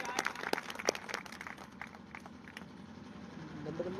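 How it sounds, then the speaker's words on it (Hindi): An audience at a networking marketing meeting breaks into scattered applause, sharp claps thick at first and then thinning into a quieter patter, heard from a short distance. "तालियां हो जाए।"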